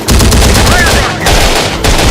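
Rocket launcher firing in the video game Terminator Dark Fate Defiance, a loud, close blast followed by rumbling bursts of explosive noise that fill the whole moment, with game sounds layered on top.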